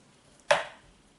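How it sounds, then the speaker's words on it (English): A single sharp chop of a knife through potatoes on a cutting board, close and crisp, with a brief decaying knock and no other sound around it. "Once I get these potatoes cut up"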